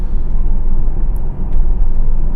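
A bald-tired 2018 Tesla Model S P100D in Ludicrous mode launches hard from a traffic light, giving a loud, steady low rumble of road and drivetrain noise that holds throughout with no speech.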